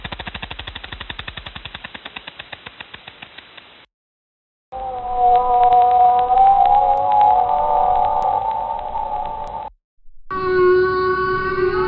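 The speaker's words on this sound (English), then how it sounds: "A whale made this sound." A whale vocalizes with long moaning tonal calls that waver and rise, loud and alone, after an earlier stretch of rapid clicking pulses.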